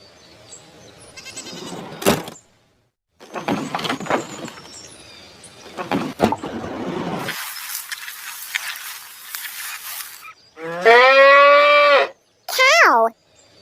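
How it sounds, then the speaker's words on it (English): A cow on a farm gives one loud, drawn-out moo near the end, after spoken words and a stretch of hissing noise. "Cow."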